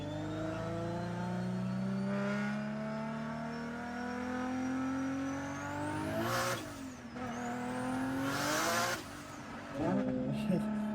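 A turbocharged car launches hard with wheels spinning: the engine revs climb repeatedly with a rising turbo whistle and tire squeal, fairly close, and a person speaks briefly near the end.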